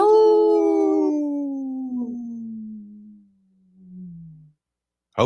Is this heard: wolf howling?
yes